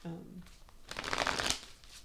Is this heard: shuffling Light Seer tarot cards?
yes